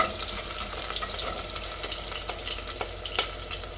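Onion frying in hot coconut oil for a breadfruit curry, a steady close sizzle with scattered crackles and pops and occasional stirring scrapes, no voices.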